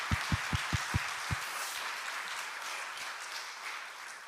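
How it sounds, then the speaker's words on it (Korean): Applause from a church congregation during a Sunday worship service, opening with several loud, evenly spaced claps up close before blending into steady, broad clapping across the room. "우리 멋진 아들 박수 한번 쳐줘요."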